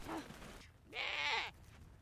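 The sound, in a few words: herd of goats bleating on the Mongolian steppe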